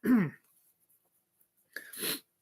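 A single short sneeze, then silence, followed by another breathy burst like a second sneeze or exhale, close up.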